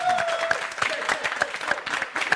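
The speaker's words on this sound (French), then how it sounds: "Ça mérite des acclamations, s'il vous plaît." A TV studio audience applauding on a Gabonese television programme, steady clapping throughout with sharp individual claps standing out, mixed with some crowd noise.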